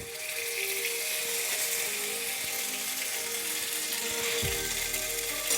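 Ginger and green chili paste sizzles steadily in hot mustard oil in a wok, a close, dense frying hiss that runs unbroken with faint clinks and scrapes underneath.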